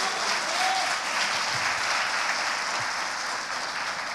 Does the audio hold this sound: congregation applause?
yes